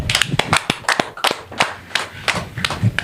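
Several people clap hands in irregular sharp bursts, close and fairly loud, with uneven rhythm and short gaps between claps.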